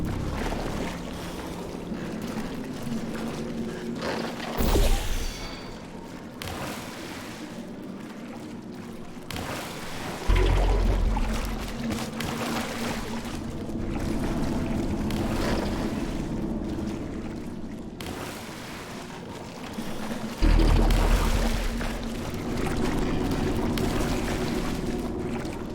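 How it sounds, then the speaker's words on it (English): Continuous flowing, splashing water inside a Portal 2 test chamber, a steady rushing wash broken every few seconds by louder gushing surges. "Some sort of water?"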